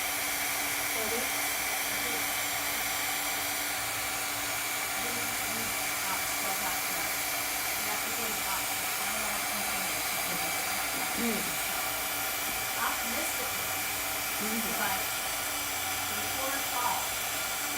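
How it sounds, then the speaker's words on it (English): A heat tool blows a steady stream of hot air over shimmering glaze paint, making a continuous broadband hiss and whir that runs the whole time, with faint clicks and crackles over it. "you can keep on just hitting the heat tool until it fuses all the way back down"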